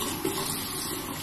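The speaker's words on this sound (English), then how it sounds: "So I'm just gonna rinse my face. So I use lukewarm water just to open up the pores in the skin." Lukewarm tap water runs and splashes as a face is rinsed, a brief close gushing wash.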